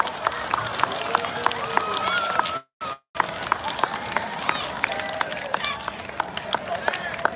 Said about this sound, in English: Let us all give them a big round of applause once again.